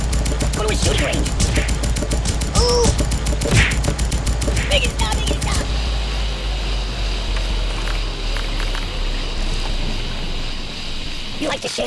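Gunfire in the mobile game Kick The Buddy: a fast, steady rattle of rapid shots for several seconds, then fading into a dense, noisy wash.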